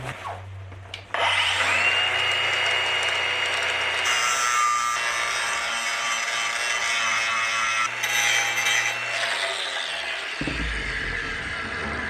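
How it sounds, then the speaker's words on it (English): A grinder cuts down part of a motorcycle brake caliper on a Lynx GLS 3500, a loud continuous abrasive whine lasting about ten seconds after a brief start-up, close by with no talk. "The caliper also sticks out a bit into where this plate is gonna be, so I'm just gonna"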